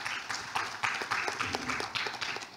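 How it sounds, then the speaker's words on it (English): An audience claps for the panelists at the APAC DNS Forum 2024. The applause is modest and steady, with scattered individual claps under faint background sound. "please give me a round of applause to all the panelists to welcome them"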